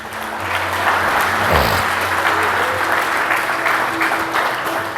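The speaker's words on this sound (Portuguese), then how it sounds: "Pode bater palmas para Jesus." A church congregation claps together in praise, a full continuous burst of applause that swells slightly in the middle, with a faint background tone beneath.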